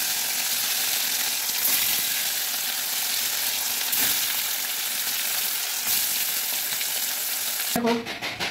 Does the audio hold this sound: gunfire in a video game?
no